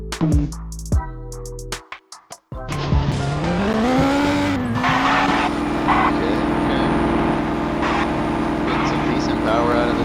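A V8 drag racing car built from a BMW with a small block Chevy in a Roblox mechanic game, starting with stuttering bursts and then revving into a loud, sustained engine roar.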